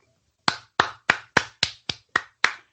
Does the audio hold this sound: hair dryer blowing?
no